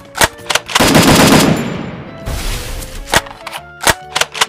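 Gunfire in the game Free Fire: a long loud burst of automatic shots, then a fading tail and several sharp single cracks near the end.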